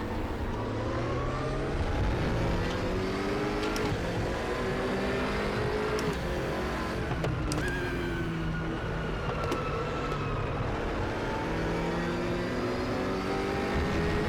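Simulated BMW M6 GT3 race car engine lapping Anderstorp Raceway in RaceRoom, a steady loud drone with gear-change steps and rising and falling revs running continuously throughout, no talking.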